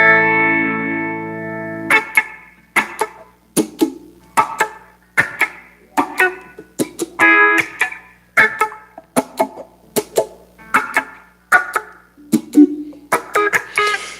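Reggae organ run through a phaser. A sustained chord opens the passage, followed by a rhythmic run of short, choppy off-beat stabs, each with a swirling, sweeping tone, played loud and close.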